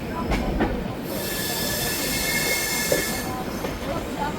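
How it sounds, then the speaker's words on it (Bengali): A train pulls in at platform 4 of Khurda Road Junction with a steady loud rumble and a sustained high metallic wheel squeal, heard up close and without talk. "যেখানে এসে পৌঁছেছে আমাদের ট্রেন।"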